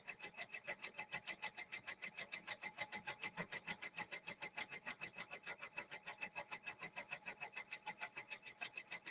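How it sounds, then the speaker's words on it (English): An embroidery machine stitches at 400 stitches per minute, producing a steady, fast mechanical clatter that repeats evenly and continuously, close and moderately quiet. "It is stitching at 400 stitches per minute."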